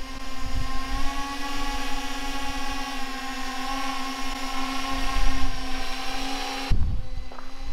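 A drone hovers over a frozen lake, its steady high-pitched motor whine holding loud and constant throughout, cut by a brief thump near the end.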